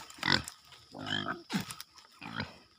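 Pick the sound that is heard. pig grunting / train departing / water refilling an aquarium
pig grunting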